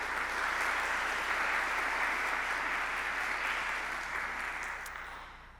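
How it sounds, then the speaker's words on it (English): Sustained audience applause at a Fairmount College Hall of Fame ceremony at Wichita State University, a dense, steady wash of many hands clapping that holds loud for several seconds and then begins to fade toward the end. "So please, a round of applause for Dr."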